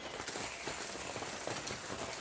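Rain falls outdoors in a faint, steady patter of close drops on a surface, with no voices.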